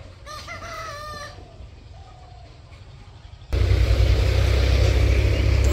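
Chickens and roosters on a poultry farm, with crowing and clucking calls standing out over a steady murmur at first, then fading under a sudden loud, dense wash of farm noise that fills the second half.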